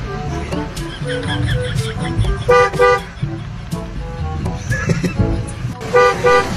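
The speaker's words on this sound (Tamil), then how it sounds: "சும்மா சும்மா ஹார்ன் அடிச்சிட்டு இருக்க" Repeated short toots of a vehicle horn, honked again and again in quick bursts over busy road traffic, near and loud, with voices mixed in.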